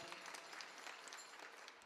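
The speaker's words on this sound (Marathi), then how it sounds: "भजनी मंडळाच्या नावाने टाळ्या वाजवा" A kirtan audience claps in a sustained, even wave of applause, moderately distant and filling the whole stretch without a break.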